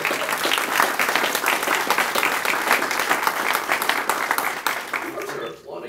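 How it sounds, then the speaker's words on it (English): A packed room at a political campaign kickoff claps steadily and warmly, the dense applause holding loud for several seconds before thinning out at the very end, with some voices beneath. "You are applauding at all the right moments."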